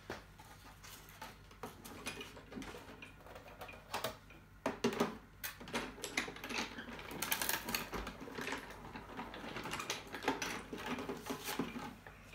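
A die-cutting machine feeds cardstock through a die for a poinsettia, giving a steady mechanical clatter and rattle with scattered sharper clicks at a moderate, close level throughout.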